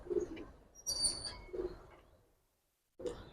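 Giribaz pigeons at a loft, with a hen among them, give soft, low cooing phrases in a few short bursts close by, separated by brief pauses and one moment of near silence.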